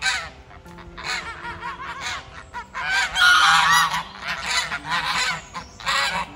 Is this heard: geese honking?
yes